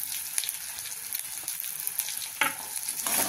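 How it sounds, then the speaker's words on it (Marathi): Onion, tomato, curry leaves and coriander sautéing in a pan, a steady bright sizzle with scraping stirs and small crackles, close and fairly loud, with no talking. "हे छान परतून घेऊया।"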